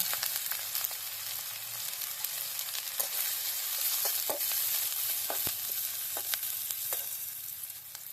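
Onions sizzle and fry in a pan over an outdoor village-style cooking fire while chicken mete kosha is being made, a steady loud hiss broken by occasional clinks and scrapes of stirring.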